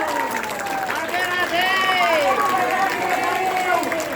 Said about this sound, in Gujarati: ભાઈ તાળીઓ પાડો.